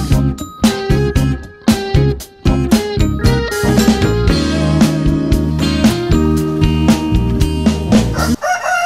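Mongolian black chickens and a rooster inside a chicken coop, with loud, dense crowing and clucking overlapping continuously and close by.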